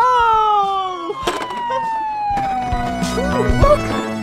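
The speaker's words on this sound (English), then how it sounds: "This is a police car!" A police car siren wails at an indoor playground, its pitch sliding in long rising and falling sweeps. Clattering and a voice are heard over it.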